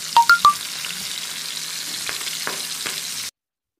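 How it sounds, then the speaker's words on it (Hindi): Fish shallow-frying in oil sizzles steadily and close, with a few sharp clinks at the start and occasional soft stirring knocks before the sound cuts off. "फ़िश फ्राई हो रही है"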